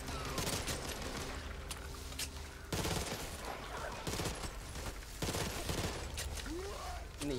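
Rapid gunfire in Back 4 Blood rattles steadily throughout in the middle distance, with sharper bursts standing out now and then over a busy game soundscape while people talk.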